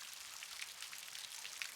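Steady rain falling, a dense, even hiss of drops with a few slightly louder patters, continuous and fairly soft with no voices.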